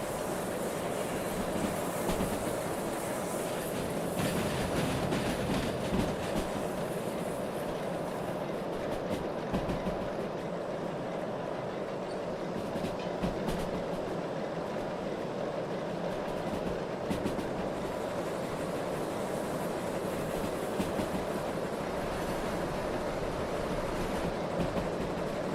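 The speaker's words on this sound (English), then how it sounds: "Ooh, flange squeal." Train wheels squealing against the rails in the railway simulator game Derail Valley, with a dense, steady rumble and a high metallic screech running throughout, loud and continuous with no speech.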